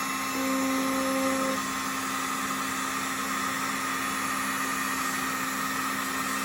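A heat gun blows with a steady, loud whirring hiss while heating faded dirtbike plastic, continuous and close throughout.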